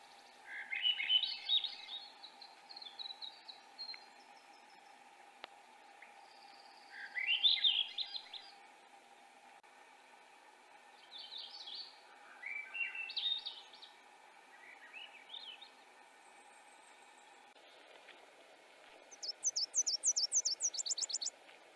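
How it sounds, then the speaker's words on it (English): Several Swainson's thrushes sing at dawn in dense balsam fir at 2,500 feet near Moosehead Lake, their upward-spiralling flute-like phrases coming in separate bursts every few seconds, fairly distant against a quiet background. "5 a.m. Just listen to all those Swainson's thrushes."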